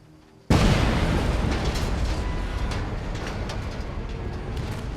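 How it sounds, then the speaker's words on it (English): An explosion in the World War II shooter Medal of Honor: Above and Beyond, a sudden loud blast that leaves a long, dense rumbling roar, with no talk. "That explosion got the attention of all the German patrols in the area."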